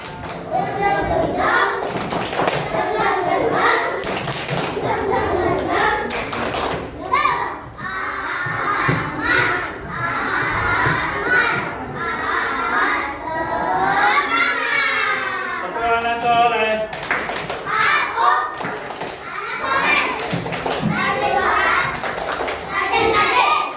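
A classroom of children does a rhythmic spirit clap, with sharp group claps in patterned bursts mixed with chanting and children's voices, loud and close throughout.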